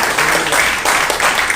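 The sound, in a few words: congregation applause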